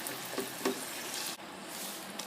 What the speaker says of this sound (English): Now I'm going to put the tomato paste in here. And break this down a little bit in here.